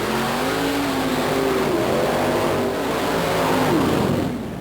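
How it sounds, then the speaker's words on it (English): A big-block Chevrolet V8 in a Fiat-bodied mud racing truck roars at sustained full throttle, its pitch climbing and dipping as revs rise and fall through a muddy run, loud and close, with no talk. "Here's an unusual combination of Fiat powered by a big block Chevrolet Chuck Brown in Mudaholic."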